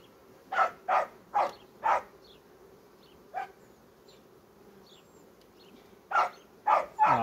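A dog barks at cats near beehives in an apiary where queens are being raised: four quick, fairly close barks, a lone bark a moment later, then another burst of three toward the end, with faint insect buzzing underneath.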